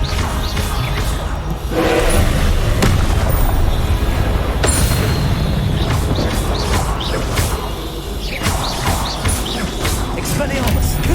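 Confringo blasts from Hogwarts Legacy gameplay, a loud dense run of booming, crashing spell impacts with sharp cracks at intervals, layered over game music and effects.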